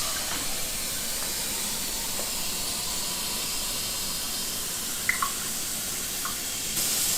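Cool tap water runs in a steady hiss as it fills the reservoir of an ear wax removal machine by hand, with a few small drips and clinks near the end.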